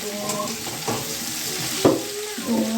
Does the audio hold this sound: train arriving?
no